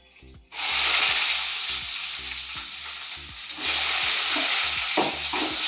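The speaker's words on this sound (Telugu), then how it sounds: "ఇప్పుడు మనం ఉల్లిపాయలు అనేది వేసుకుందాము" Onions hitting hot oil in a pan for soya chunks fried rice, producing a sudden loud burst of sizzling that settles into a steady, close frying hiss with a faint rhythmic hum underneath and no talking.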